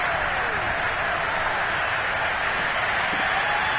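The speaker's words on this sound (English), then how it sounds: "the crowd getting into it as we come up on a big 3rd down" Football stadium crowd before a big third down, a dense, steady roar of cheering and applause filling the whole stretch at an even level, with no clear voice on top.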